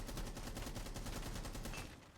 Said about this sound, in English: Might be trying for a wall bang.